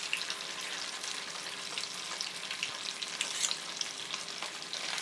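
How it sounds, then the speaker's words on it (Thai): Hot oil sizzles and crackles steadily as spoonfuls of banana blossom fish cakes fry, a dense continuous hiss with small pops, close by and with no talking. "แล้วก็ใส่ทอดมันเป็น คำๆแบบนี้นะคะ แล้วก็ ลงไปทอดแบบนี้นะคะ"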